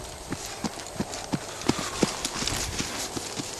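Horse hooves clip-clopping at a walk, a mustang gelding under saddle with a bosal, regular steady beats close by with no talking.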